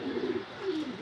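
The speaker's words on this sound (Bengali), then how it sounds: "এই দেখেন কবুতর, এটা শান্তই করা যাইতেছে।" A racing homer pigeon gives two soft, low coos in a row, close by and fairly quiet, with no talking.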